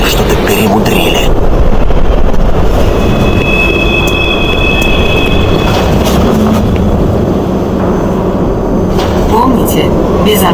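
Monorail train in the video game Doom 3, a loud steady rumble of rolling wheels and carriage noise with faint squeals, running continuously throughout, with a spoken announcement mixed in.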